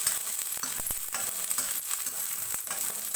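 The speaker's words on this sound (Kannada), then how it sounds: "ಸೊ ಇದು ಫ್ರೈ ಆಗಬೇಕು ಫ್ರೆಂಡ್ಸ್" Chilli chicken frying in a pan, a steady crackling sizzle with scattered stirring clicks and scrapes, close and continuous throughout.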